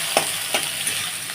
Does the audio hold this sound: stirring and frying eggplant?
yes